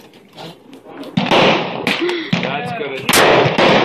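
Gunfire during a destruction session: several loud, sharp blasts ring out close by at irregular intervals, with voices and other noise between the shots.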